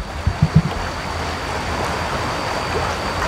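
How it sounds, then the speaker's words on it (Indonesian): Water gushes from a six-inch drain pipe at a tilapia fish pond in a steady, close rush, after a few soft knocks at the start; no one speaks. "untuk pembuangan airnya kayak gini"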